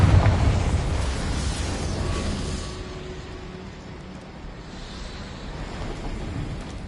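A Confringo fire spell blast in Hogwarts Legacy: a loud, broad rumbling explosion that swells at the start and slowly fades into a churning, roaring tail across several seconds, with no voices.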